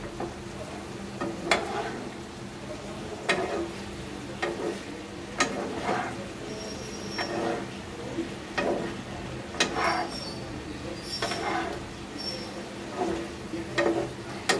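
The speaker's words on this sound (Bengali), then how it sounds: "সবজিটা আমি একটু নেড়ে চেড়ে দিব।" A pot of vegetable curry with potato, pointed gourd, papaya and teasel gourd being stirred, spoon scraping and clinking in a steady rhythm over a low simmering sizzle, close and moderately loud.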